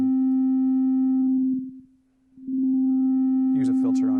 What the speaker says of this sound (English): a sine wave is actually not so fun to filter because it's such a simple sound.